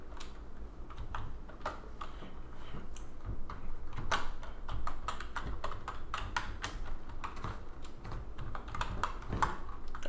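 Someone types a password on a computer keyboard in a quiet room, the keystrokes arriving as soft, irregular clicks in short bursts over a faint background hum.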